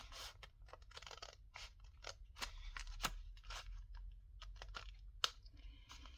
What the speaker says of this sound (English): I'm just gonna clip around it to stabilize these lines. And then we can cut through both layers.